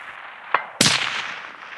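A K95 lightweight rifle fires a single sharp shot at a range, the crack followed by a long decaying echo, with a fainter click or knock just before it.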